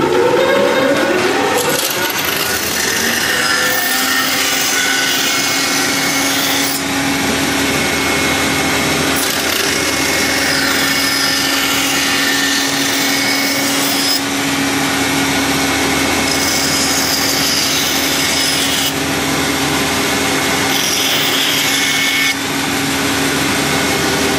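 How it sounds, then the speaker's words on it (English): A bandsaw runs continuously at close range, a steady high whine with grinding bite as it cuts excess wood away from a fingerboard blank, loud throughout with no talking. "You can use a smaller bandsaw, but this is probably the fastest way of cutting all the excess around the wood out"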